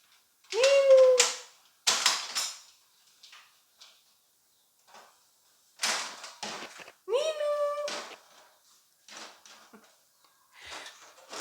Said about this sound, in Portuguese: Tem um gato, gente, que ele chama Nino, e o Nino fala